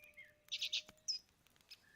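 Small bird chirping in The Book of Unwritten Tales video game, a quick burst of three bright high tweets followed by a couple of fainter isolated chirps, close and clear over a quiet background.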